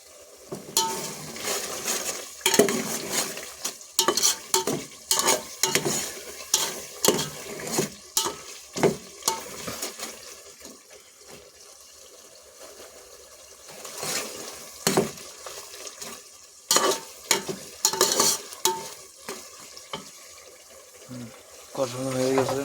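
Rohu fish pieces tossed with spice masala in a pan: repeated scraping stirs and clattering utensil strokes come in bursts over a low frying sizzle, with a quieter stretch in the middle and a voice speaking at times.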